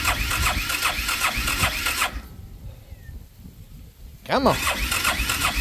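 A choked engine cranks and sputters, then catches and runs in rapid rhythmic pulses; after a pause it cranks again and roars back to a steady run, loud and close, with a man's short spoken urging over it.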